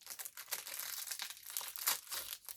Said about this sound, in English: Sorry for the crinkling again, but I'm going to open this